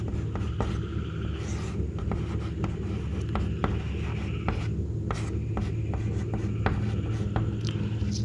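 Chalk or marker taps and strokes across a board in short, irregular bursts over a steady low room rumble, fairly faint, with no voices.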